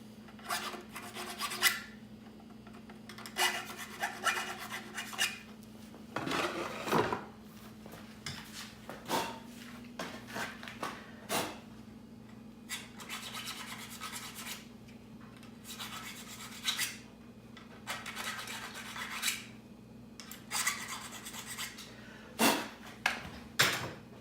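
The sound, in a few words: small file filing burrs off detachable antlers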